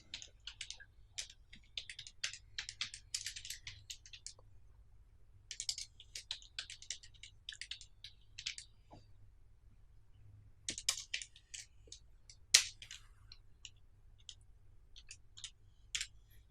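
Typing on a computer keyboard: quiet, close clicking keystrokes in quick bursts, separated by short pauses, with no talking.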